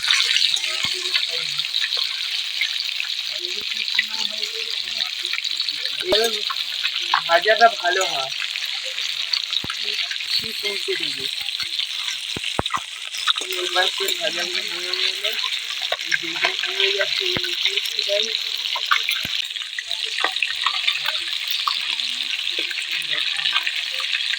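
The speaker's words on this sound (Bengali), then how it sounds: "ভালোভাবে করে ভাজতে হয় ভালো ভালো ভালো ভাজতে হয়" Snakehead fish fries in oil, sizzling steadily with a bright hiss throughout, broken by occasional clinks and scraping from stirring in the pan.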